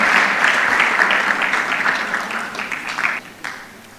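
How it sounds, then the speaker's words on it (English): Audience applause at a Kenyan national research festival as a speaker comes to the stage, loud clapping at first that gradually thins and fades out. "Give her a round of applause as she comes to the stage"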